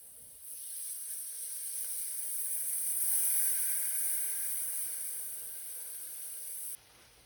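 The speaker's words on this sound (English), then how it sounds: "we're going to add some beef broth." Beef broth poured into a hot pan of Salisbury steak drippings with flour, giving a loud, steady sizzling hiss that swells and holds for several seconds before cutting off abruptly near the end.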